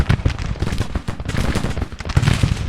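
Massed rifle and musket volleys from units in the Grand Tactician Civil War strategy game crackle in dense, overlapping bursts, loud and continuous, with no talking.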